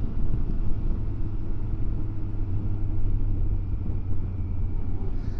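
A motorcycle engine runs steadily close by, a continuous low rumble with a constant hum and no change in pitch for the whole stretch.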